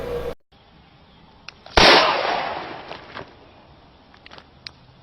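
A single loud, close gunshot cracks sharply, followed by a short decaying tail and faint scattered clicks, after a brief cut to silence.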